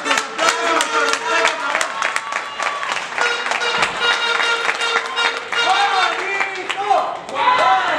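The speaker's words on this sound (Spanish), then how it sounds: "Pequeño Star, ese es nuestro aplauso." Crowd at a lucha libre wrestling arena applauding and cheering steadily for about eight seconds, loud and dense, with voices mixed into the noise.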